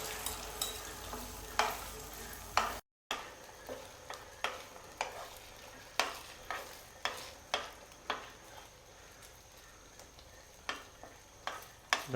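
Beaten duck eggs sizzling in fresh coconut oil for an omelette, a steady fry under regular scraping and stirring strokes of a utensil against the pan, close and moderately loud.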